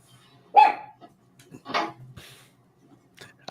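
A dog barks a few times, with one sharp close bark followed by a couple of softer, shorter barks and small yips in an otherwise quiet room.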